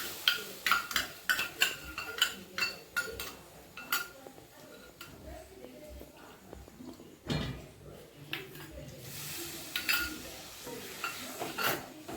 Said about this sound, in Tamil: நல்லா நம்ம இந்த மசாலா சேர்த்து மிக்ஸ் பண்ணிக்கிங்க